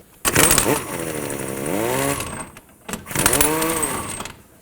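A power tool, likely an impact gun, drives a jam nut onto the inner tie rod threads of a 2007-2009 Saturn Aura in two loud, close bursts, the second after a short pause, with no speech.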